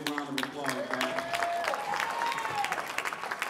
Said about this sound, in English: Give Andre Sloan a big round of applause, man.